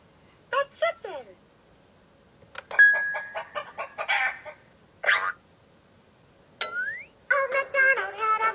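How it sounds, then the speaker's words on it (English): Chickens cluck in a string of short, separate bursts, with a few longer squawks and calls between them. The calls are fairly close and nothing else is heard. "And on his farm he had a chicken"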